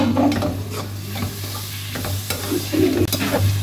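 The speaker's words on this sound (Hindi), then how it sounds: "थोड़े से टमाटर फ्राई हो जाएं" Tomatoes, onions and green chilies frying in a pan, with a steady close sizzle broken by repeated spoon scrapes and stirring clatter throughout.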